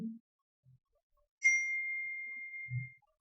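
A single clear phone notification ding rings out and decays slowly in a quiet room, with faint low thumps before and after it.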